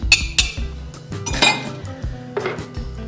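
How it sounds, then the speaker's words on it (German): A spoon stirs salt and yeast in a bowl for bread dough, giving several sharp metallic clinks and scrapes at an uneven rhythm, close up with no talking. "Das kann ich hier einmal so umrühren, damit es sich gut verteilt."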